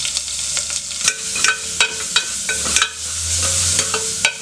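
Mustard seeds, dried chillies, curry leaves, ground pepper and cumin sauté in hot oil for rasam, a close steady sizzle broken by sharp pops and clicks as the spices crackle and get stirred.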